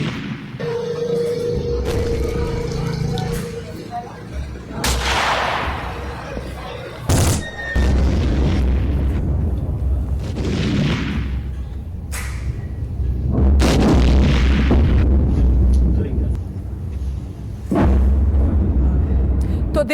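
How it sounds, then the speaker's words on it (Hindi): Heavy explosions from an attack on Nur Khan airbase in Pakistan boom and echo at a distance, several deep thuds spread through the stretch over a rumbling background, with some voices and noise between them. "ये धमाके की आवाज गूंज रही है"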